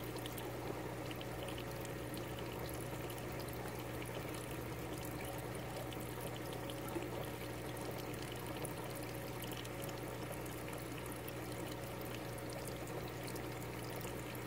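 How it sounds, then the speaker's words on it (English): Water flowing through a siphon in a backyard aquaponics system, a continuous trickling pour with a steady low hum underneath, constant throughout. "make sure that that siphon is happening, that the water's going up and going out"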